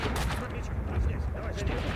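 Rapid gunfire from the video game Max Payne 2, several sharp shots in quick succession over a dense game soundscape, loud and close.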